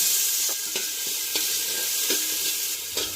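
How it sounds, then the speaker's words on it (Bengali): Green peas frying in oil for pulao, a dense close sizzle broken by several sharp stirring scrapes of a spatula against the pan, with no voices. "মটরশুঁটিটা হালকা করে ভেজে নিচ্ছি।"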